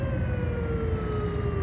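An ambulance siren in American Truck Simulator, a steady drawn-out tone that slowly glides downward, heard over a constant low truck engine drone.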